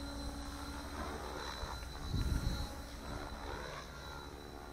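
Oxy 4 Max RC helicopter flying far off, a faint steady rotor and motor whine that swells briefly near the middle and then settles back to a distant hum.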